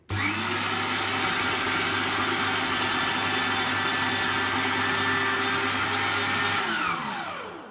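A Qilive Q5763 electric meat grinder with the slicer attachment cuts potato slices, its motor giving a loud, steady whirring drone with a low hum that runs evenly for about seven seconds before winding down.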